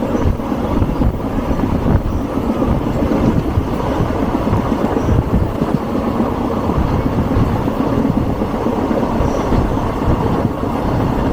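Loud, continuous rumble of the Sapthagiri Express train rolling along the tracks near Tirupati, with steady rattling wheels and a faint squeal, close by and without voices.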